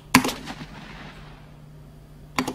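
Two booming tank gun shots in the Armoured Commander II game, one near the start and another near the end, each a sharp close blast with a short rumbling tail.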